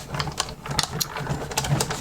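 Acrylic plate passing through a die-cutting machine: a faint, irregular mechanical clicking and ratcheting with soft whirring, close and quiet, heard alone.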